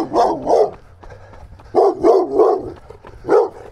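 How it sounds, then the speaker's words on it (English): Dogs bark at a passing runner, with loud nearby barks in two quick clusters and then a single bark after a short pause, along with some yipping. "when you get past the dogs barking at me"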